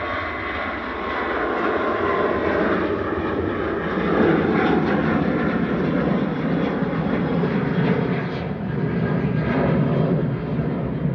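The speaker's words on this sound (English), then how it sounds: "Here's the ASL Airlines to Paris Charles de Gaulle" An ASL Airlines Boeing 737-800 freighter departs Manchester for Paris with a loud, continuous jet engine roar that swells a little midway and keeps going, with no voices.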